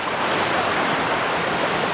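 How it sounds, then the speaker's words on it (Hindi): Waterfalls gush along a footpath near Rishikesh, a dense, steady roar of rushing water that fills everything evenly and loudly with no pauses. "कहाँ से झरने फूट गए।"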